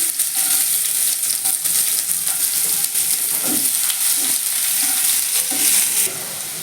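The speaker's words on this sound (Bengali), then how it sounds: "একটা ছোট পেঁয়াজ ছোট করে কেটে নিয়েছি পেঁয়াজটা দিয়ে দিচ্ছি" Small chopped onion hits hot oil with cardamom and cinnamon, a loud, sustained frying sizzle broken by stirring scrapes throughout.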